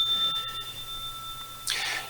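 Celebratory bell sound effect, a single bright ring with sustained tones and a short shimmering burst near the end, clear against a quiet background.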